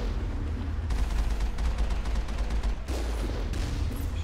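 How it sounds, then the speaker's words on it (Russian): Rapid bursts of gunfire from turrets in Mass Effect, dense and loud, firing in clustered volleys with brief pauses between them. "Нет, пушки вроде стреляют."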